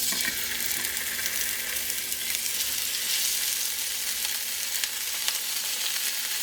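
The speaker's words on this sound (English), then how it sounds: "all we're going to do is brown our chops" Chops browning in a tablespoon of olive oil in a pan give a continuous, close, bright sizzle with small crackles and pops, with no talk over it.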